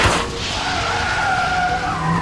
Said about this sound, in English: Pretty sure they shot out the tire.